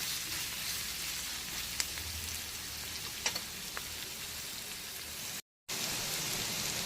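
Grated coconut frying in a pan gives a faint, steady hiss with a few scattered crackles and one brief cut to silence, with no voices.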